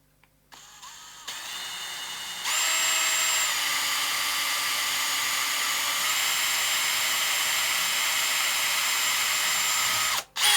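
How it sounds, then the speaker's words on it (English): A power drill with a poor-quality bit spins up in steps to a steady high whine and runs continuously for several seconds before briefly cutting out near the end. "that's a shite drill bit, that is"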